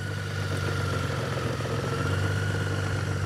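A Honda GolDax motorcycle engine idles steadily up close, a low, even rumble holding without revving.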